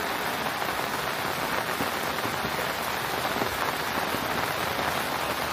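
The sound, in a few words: heavy rain in a coastal area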